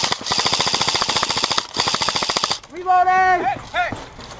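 Airsoft guns fire rapid full-auto bursts as covering fire in a skirmish game, a dense rattling stream of shots with a brief gap, ending as someone shouts loudly.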